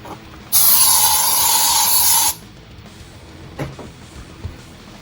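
A can of spray, used for safety on a desk-mounted mic arm, gives one loud, steady hiss lasting about two seconds close up. Faint handling knocks follow.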